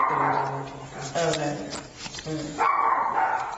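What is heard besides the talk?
dogs barking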